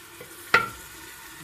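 Shredded meat sautés with carrot in a sauce in a pan: one brief scrape or stir lands over a faint background sizzle, otherwise quiet.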